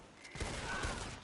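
Gunfire in Red Dead Online, two quick shots a moment apart, muffled and fairly faint, with no voices over them.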